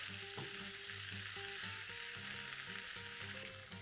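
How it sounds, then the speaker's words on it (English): Paneer and boiled green peas get a quick stir in a pan over a quiet, steady sizzle with faint scraping, all fairly soft and close. "To the paneer, let's add in green peas, which are boiled and kept ready, and give this a quick stir."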